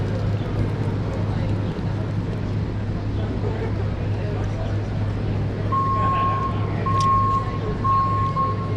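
A truck backs up on a Greenwich Village street in New York City. Several long, steady reversing beeps sound at a moderate distance over a constant rumble of city traffic.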